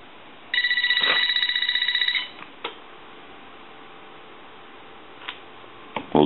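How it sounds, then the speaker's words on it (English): An AT&T 4200 cordless telephone gives one loud burst of electronic trilling ring lasting about two seconds, followed by a few sharp clicks and soft handling knocks in a quiet room. "I want to ring it again."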